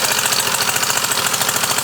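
A Mercury 50HP outboard motor on a Lowe Stinger 175 boat idles loud and close, with a rapid steady knocking pulse and a constant throb and no talk.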